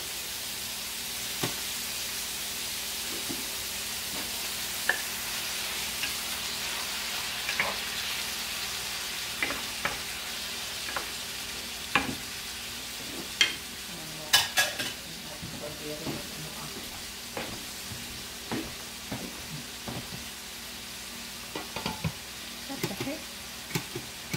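Liver pieces frying in a pan, with a soft steady sizzle and scattered clinks and scrapes as a utensil stirs against the pan.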